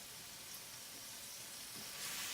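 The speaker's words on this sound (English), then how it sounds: "Straight into this pan with the bacon, and we're going to combine." Pasta tossed into a pan with bacon, sizzling in rendered bacon fat for a carbonara, a steady quiet hiss that runs on evenly without speech.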